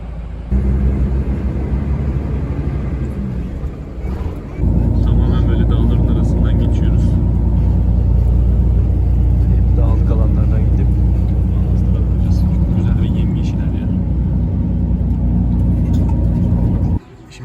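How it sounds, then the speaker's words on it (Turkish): Loud, steady low rumble of a bus engine driving along the road, heard from inside the bus, with a brief dip in the drone early on before it resumes and holds until the end. "şimdi otobüsteyiz yola çıktık gidiyoruz."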